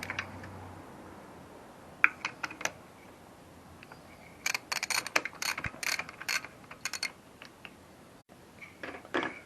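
A hand ratchet slowly backs off the cylinder nuts on a DT 250 motorcycle engine, making quiet bursts of rapid clicking separated by pauses, with a denser run of clicks in the second half.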